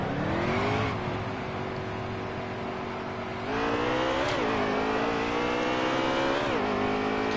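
Race car engines in a racing video game rev steadily with harmonic whine, rising in pitch through gear changes and dropping back at about four and six and a half seconds, loud and continuous with no talk.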